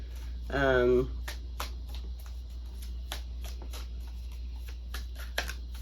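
Tarot cards shuffled and handled at a reading, giving soft riffling and a scatter of small taps and flicks through the clip, with a short burst of speech near the start over a steady low hum.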